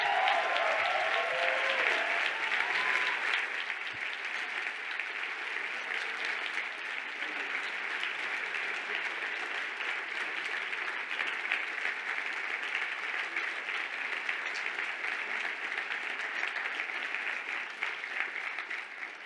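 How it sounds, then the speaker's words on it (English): Warm round of applause from the audience at a university commencement ceremony, steady dense clapping that carries on evenly for the whole stretch, fairly distant and moderate in level. "give them a warm round of applause"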